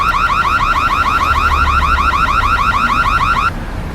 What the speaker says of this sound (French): Tills, éteignez-moi cette alarme.